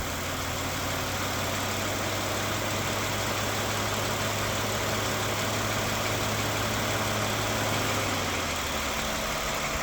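Toyota Sienna third-generation engine idling steadily during a transmission fluid change, a constant low hum with no revving, up close and alone, easing slightly near the end.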